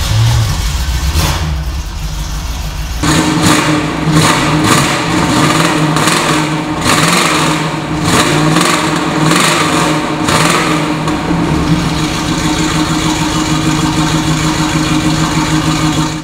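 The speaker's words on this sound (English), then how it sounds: "how about I fire it up for you so you can hear what it sounds like" A 1969 Chevrolet Camaro SS with a 350 engine cranks over and catches after about three seconds, then idles loud and rough with a steady throbbing rumble and several blips of revving, close to the car with no talk.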